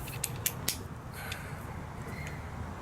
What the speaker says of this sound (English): torque wrench, 1/2-inch adapter, which plugs right into